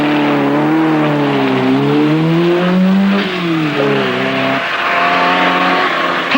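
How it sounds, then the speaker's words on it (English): A rally car with a loud exhaust, competing in the 1974 Lebanon-Syria Rally, roars close and loud, its engine note rising and falling through gear changes and revs, dropping sharply once before climbing again. "Hamdan considers his exhaust pipe, reflects that the noise is unlikely to disturb the local inhabitants"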